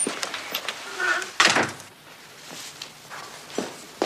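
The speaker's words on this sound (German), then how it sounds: "Mach jetzt mal die Tür zu." Door closing as a sound effect in a German crime radio drama, a sharp thump near the middle amid quieter shuffling and footstep-like knocks in a room.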